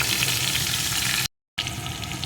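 Chopped tomato with turmeric, chili powder and salt sautéing in a pan for a vegetarian pumpkin curry, a steady loud sizzle that briefly cuts out to silence before resuming.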